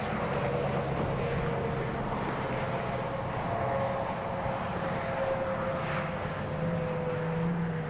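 A SpaceX rocket launch gives a steady, distant roar of engines, a broad, continuous rumble with a faint tonal whine, holding even in loudness throughout with no talk.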